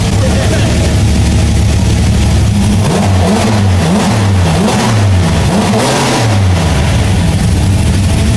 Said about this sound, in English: Now that sounds like a V12.